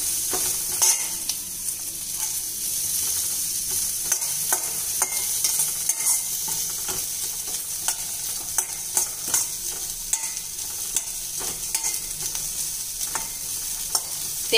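Cashews and fresh coconut roasting in a pan for aval pori give a steady close sizzle, with frequent scraping and stirring clicks running throughout, and no voices.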